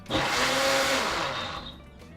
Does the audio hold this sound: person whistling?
no